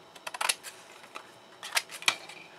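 Scissors snip through craft paper in a quiet indoor setting, a series of short crisp cuts in two quick clusters, close and faint, with no talking.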